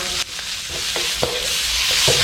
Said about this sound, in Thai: เราก็มาลงเป็นเห็ดหอม รวมถึงแครอทนะครับ ผัดซ้ำนึงครับ